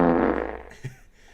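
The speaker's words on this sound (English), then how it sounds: "I fart on my streams, yes." A single loud, drawn-out fart rumbles close up, fading over about a second, followed by a faint short thump and quiet room tone.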